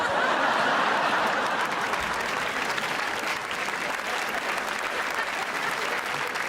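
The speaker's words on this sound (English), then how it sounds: "Eugene, you notice how they all started clapping right there?" Stand-up comedy club audience breaking into sustained, dense applause with scattered chuckles mixed in, a loud continuous roar of clapping throughout.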